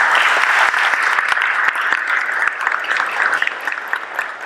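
Sustained audience applause at a Venezuelan geopolitics talk, a dense, steady wash of many clapping hands with a few sharper claps standing out, loud and continuous throughout.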